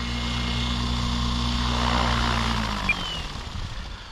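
An Align T-Rex 650X RC helicopter with a new flight controller coming in to land, its rotor and motor whine loud and steady, then winding down in pitch near the end, with no voices.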